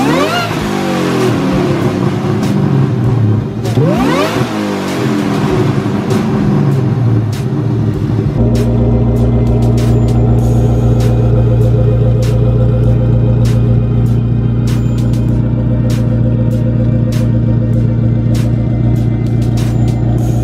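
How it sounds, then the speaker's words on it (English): A 2003 Mustang Terminator Cobra engine revving up and then settling into a loud, deep, steady exhaust rumble at idle, close and continuous with no talk. "I love the rumble of the car."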